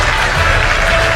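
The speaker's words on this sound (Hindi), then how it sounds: "ये रुकनी नहीं चाहिए तालियों की आवाज" Applause from an audience at a session, a thick continuous wall of clapping, loud and close, steady across the brief moment with no pauses.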